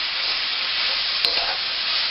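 Tomatoes, bok choy and blanched green beans cooking in a hot pan sizzle loudly and steadily, with a brief clink and stir partway through, up close and with no talking.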